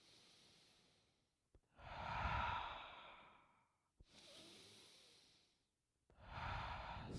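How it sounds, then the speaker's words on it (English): Slow yoga breaths, each drawn in through the nose and released out through the mouth, sound close and breathy in three long sighing waves separated by short quiet gaps, with no talking. "Inhale through your nose. Exhale out the mouth."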